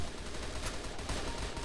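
Sustained rapid gunfire from an M4A1-S rifle in the online shooter CrossFire, a dense continuous burst of loud game shots with no pauses and no speech.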